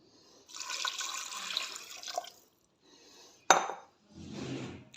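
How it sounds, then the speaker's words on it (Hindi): A cup of water pours steadily into a cooking pot of beef curry just after oil, a rushing splash of about two seconds, then a sharp metallic clank and a second, shorter pour. "एक कप पानी का डालेंगे।"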